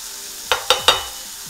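Burger patty frying in a pan right after being flipped, with three sharp close spatula scrapes or taps in quick succession over a low, quiet sizzle.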